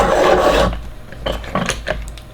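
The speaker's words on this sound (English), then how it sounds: "Now, I'm going to sharpen this one up. I've got a mechanical sharpener." An HB Derwent graphite pencil sharpened in a mechanical crank sharpener gives a close, steady grinding rasp for under a second, then fades into a few lighter scraping strokes.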